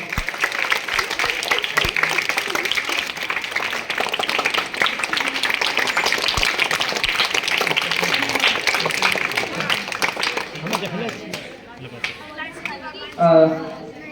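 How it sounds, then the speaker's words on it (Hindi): Loud, sustained applause fills a school hall as guests are welcomed at an honours ceremony, with crowd chatter mixed in; the clapping fades near the end as a voice begins speaking. "जोरदार तालियों से स्वागत है।"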